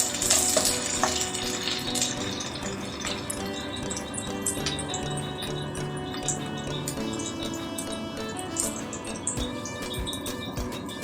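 Twenty garlic cloves fry in hot oil for a village-style fish curry, giving a steady, close crackling sizzle with scattered pops and no talking.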